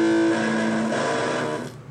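An out-of-tune electric guitar played through a DSP distortion pedal emulation, a sustained raspy, buzzy chord ringing loudly and then decaying and cutting off near the end, with no talking.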